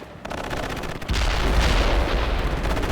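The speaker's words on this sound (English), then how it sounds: "Commence artillery fire." Artillery fire in the video game World in Conflict: a steady barrage of deep booms and bursts that swells louder after the first second and keeps rumbling without pause.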